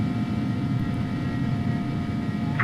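An Airbus A300-600F freighter climbs out of Toronto in X-Plane 12, giving a steady low jet engine rumble with a faint high whine, constant and fairly loud, with no voices over it.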